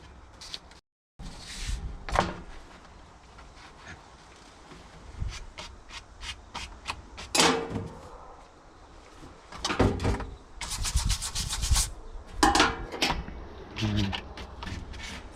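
A knife blade is rubbed against sandpaper in repeated scraping strokes, close and uneven, with short gaps and occasional louder sweeps between them.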